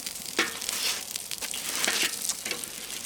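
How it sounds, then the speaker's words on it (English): Olive oil burning and sizzling on a hot grill gives a steady frying hiss with scattered sharper crackles and pops, fairly quiet and close, with no voices. "That's just the olive oil burning."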